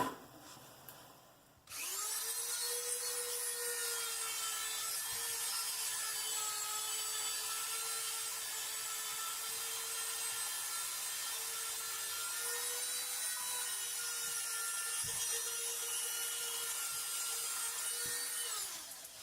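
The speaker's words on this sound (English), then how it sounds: "I'm going to set up over at the Dremel station again and spend some time shaping this." A Dremel rotary tool fitted with a fine flame bit whines steadily while shaping a briar pipe, a sustained high-pitched buzz with slight grinding variations that starts abruptly and runs for over fifteen seconds before winding down.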